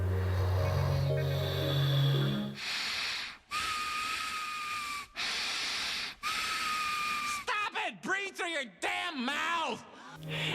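A voice imitates noisy, constricted nasal breathing: a few long hissing, whistling breaths, each with a steady whine, followed by quick wheezy, warbling sniffs, all close and fairly loud.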